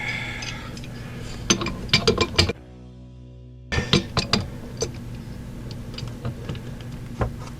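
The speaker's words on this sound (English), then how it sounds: "So now we need a pipe wrench." Pipe wrench tightening a water heater fitting on an RV, giving close metallic clicks, scrapes and knocks over steady background hum, with a brief dropout partway through.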